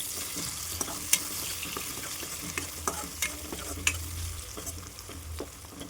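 Tomatoes with salt cook in a pan, giving a soft continuous sizzle broken by occasional light clicks and scrapes of stirring, close but fairly quiet with no voices.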